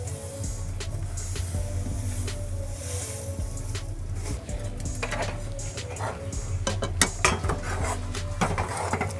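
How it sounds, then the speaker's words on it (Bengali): Roasted sesame seeds are stirred into cooked jaggery in a pan for til naru, giving repeated close scraping and clinking of a spoon against metal under a low background hum. "এরপর আমি ভেজে রাখা তিলগুলো গুড়ের ভিতরে দিয়ে দিচ্ছি।"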